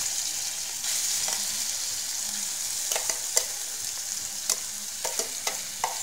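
Soybean frying in hot ghee for soybean halwa, a steady close sizzle with a run of sharp scraping stirs and clicks from a spoon in the pan, and no voices.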